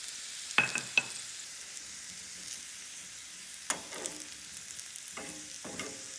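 Garlic and turmeric powder fry in a pan for Malwani chicken curry, a faint steady sizzle broken by a few clattering stirs and scrapes, close and without talk.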